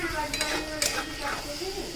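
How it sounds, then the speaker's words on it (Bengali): Mung dal being stir-fried with spices in a pan, a brief close sizzle with scraping spatula strokes and a light utensil clink. "একটু মুগটা মশলার সঙ্গে একটু হালকা করে কষে নেব"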